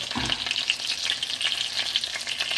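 Breaded chicken parmigiana cutlet frying in a pan of oil, a dense, steady crackling sizzle preceded by a brief soft thump as the cutlet settles, close and alone.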